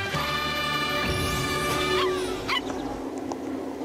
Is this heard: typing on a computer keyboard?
no